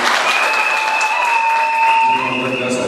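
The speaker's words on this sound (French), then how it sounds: "Applaudissons pour eux." Loud, dense applause from guests at a civil wedding ceremony for Anne and Donatien, steady throughout, with a high whistle-like tone riding over it for a couple of seconds.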